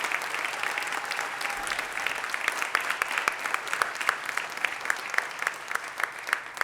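Sustained round of applause from a city council chamber audience for the outgoing council president, dense and even clapping throughout with no voices over it.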